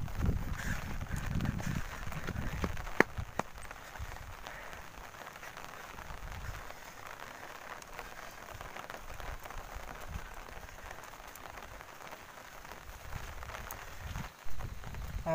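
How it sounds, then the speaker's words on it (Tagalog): Heavy rain with gusting wind outdoors, a steady dense hiss of drops pattering on surfaces, with low rumbling gusts that are strongest at the start and return near the end. "lumalakas yung ulan, tsaka lumalakas yung hangin"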